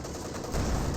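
Burst of .50 cal machine gun fire with armor-piercing rounds in Company of Heroes 2, a short rough crackle of rapid shots that swells louder halfway through the brief moment.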